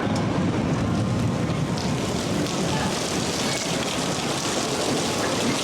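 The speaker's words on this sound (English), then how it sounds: "we've had a thunderstorm" Heavy tropical rain pours steadily during a thunderstorm in Kuala Lumpur, Malaysia, a dense continuous hiss of drops on surfaces with no clear thunderclap.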